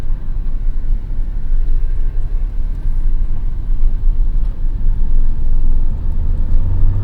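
A 2007 Porsche Cayman 987.1 drives along the road with a loud, steady low engine rumble and road noise. The sound holds constant with slight swells and no speech.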